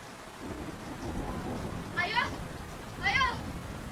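Steady rain hisses with low rumbling thunder, while two short chirping calls rise above the downpour.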